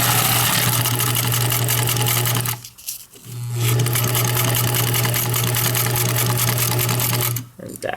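A Pfaff 130 sewing machine runs forward in a steady close whir, pausing briefly midway before stitching again, then stopping near the end; a person talks over it.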